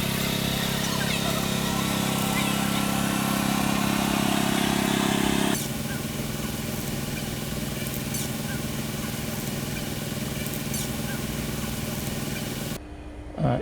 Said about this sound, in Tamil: இதை அந்த பவர் டில்லரை வச்சு தொலி அடிப்பாங்க